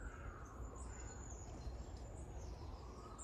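Birds call around an allotment plot in mid-September, and a robin is among them. Faint chirps and calls sit over a steady outdoor background, with no talking.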